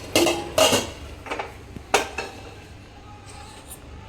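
A metal kadai, a wok-style pan, is lifted and set down on a stovetop during home baking, giving several sharp metallic clanks and scrapes close by that thin out into quieter handling noises.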